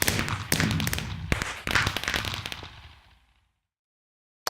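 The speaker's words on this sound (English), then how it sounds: "More fireworks. Woohoo!" Fireworks in the video game ReGrowth go off as a dense string of pops and thuds for about three seconds, then fade into silence.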